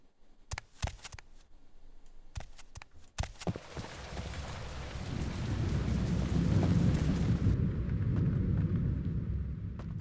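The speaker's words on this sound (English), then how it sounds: "I like the storm noises." A storm in the video game Vampire The Masquerade Bloodlines: sharp thunder cracks early on, then heavy rain builds into a dense, steady downpour that drops back slightly near the end.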